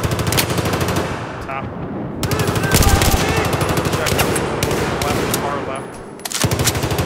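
Rapid automatic gunfire in Battlefield 4 squad play, with a FAMAS in use on the Wave Breaker map, rattling in dense, continuous bursts close by with brief lulls, and a voice talking now and then.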